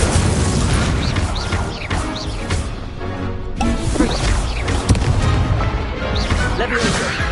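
Incendio fire spell and other combat spells in the video game Hogwarts Legacy on PS5: loud dense battle effects with repeated booms, crashes and whooshing bursts, mixed with voices and a musical score.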